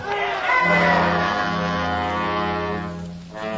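An agitated crowd in a radio drama roars and shouts in a loud, sustained swell of many voices. It dips briefly near the end and then surges again.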